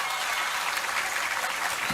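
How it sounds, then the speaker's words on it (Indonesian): A crowd of santri at a gathering with Vice President Gibran breaks into even, continuous clapping, a dense and fairly loud wash of hands with no speech over it. "Tepuk tangan dulu"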